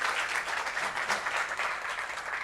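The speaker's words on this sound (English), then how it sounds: "let's give those contestants a round of applause" A seated audience claps steadily for contestants at a startup demo day, a dense, even wash of many hands that stays fairly loud for the whole stretch with no voices over it.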